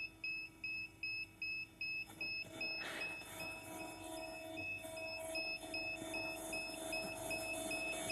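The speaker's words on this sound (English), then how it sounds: "The alarm is making the noise," A VME-500L vacuum emulsifying mixer sounds a pulsing electronic alarm, regular beeps repeating about twice a second, then merging into a steadier tone over machine hum in a quiet factory setting.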